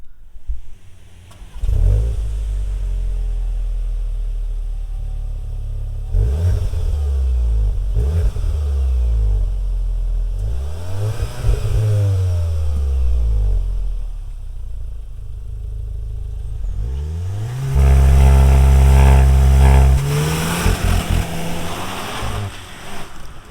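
A 2021 Cupra Leon 300 Mk4 engine revs up repeatedly, rising in pitch through the gears, then settles into a loud steady drone near the end.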